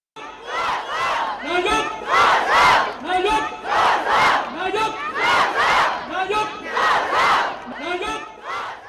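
A large crowd of supporters cheers and shouts rhythmic chants of encouragement for Thai Prime Minister Yingluck Shinawatra, loud and close, with repeated bursts of massed voices rising and falling.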